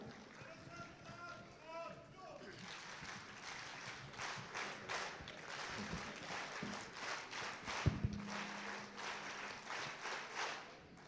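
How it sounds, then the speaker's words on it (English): Audience applause welcoming a speaker at a youth summit during a national youth festival in Dharwad, crowd clapping that starts after a brief spoken voice and continues steadily with rhythmic pulses. "Can we have a huge round of applause as we continue with the session?"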